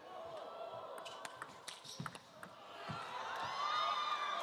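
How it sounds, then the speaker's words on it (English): A table tennis crowd at a Fang Bo versus Fan Zhendong match erupts into cheering and applause after a point, the roar swelling louder toward the end, with scattered claps and faint voices mixed in. "The crowd goes wild."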